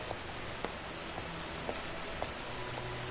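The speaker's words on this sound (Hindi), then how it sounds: "ये बारिश रुक क्यों नहीं रही?" Steady rain patters on a surface during a stormy night at a haveli, a dense continuous hiss with scattered sharper drops, no voices.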